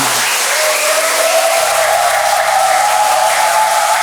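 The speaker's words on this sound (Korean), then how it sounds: "박수 한번 주십시오" Dense, steady applause from an audience at a Sunday Buddhist dharma gathering welcomes a guest monk, a loud continuous wash of many hands lasting throughout.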